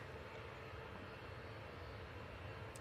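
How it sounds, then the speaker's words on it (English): An EasyJet Airbus A320-200 on its takeoff roll produces a faint, steady wash of engine roar that stays constant through the brief moment. "EasyJet now on the roll."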